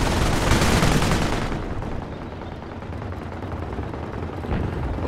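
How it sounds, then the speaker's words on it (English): Hummel self-propelled artillery gun in a Company of Heroes battle, letting off a heavy booming blast that rolls into a dense crackle of distant gunfire, loud and continuous without voices. "The Hummel is now in support. She's a self-propelled artillery gun,"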